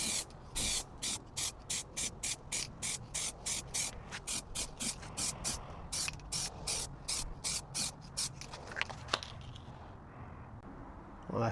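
Short repeated bursts of an aerosol spray coat hit car headlights, more than a dozen quick hisses in a steady rhythm, close and fairly loud, thinning to a softer hiss near the end.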